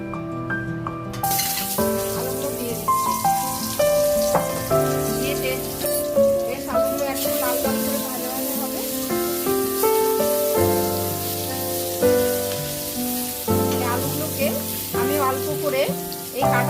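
Whole potatoes fry in hot oil in a wok, giving a steady crackling sizzle that carries on throughout beneath tonal background music.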